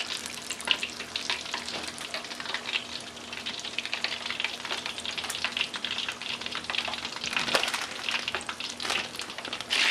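Wontons deep frying in hot oil, a steady dense crackle and bubbling sizzle with no speech.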